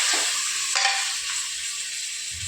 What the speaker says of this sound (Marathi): मटण बघा टाकून घेतलं. आता हलवून घेऊया व्यवस्थित.